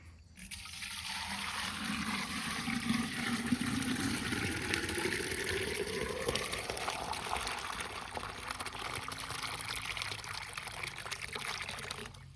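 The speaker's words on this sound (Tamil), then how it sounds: "மரத்தை வச்சுட்டு தண்ணி ஊற்றித்தான் ஆகணும்." Water pouring onto a newly planted tree in a garden, a steady gurgling trickle that gradually rises in pitch as it soaks down, heard close with no talk.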